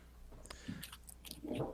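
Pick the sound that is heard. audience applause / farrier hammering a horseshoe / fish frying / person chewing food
person chewing food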